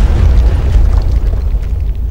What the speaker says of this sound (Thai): ก็เครื่องบินวางระเบิดนะ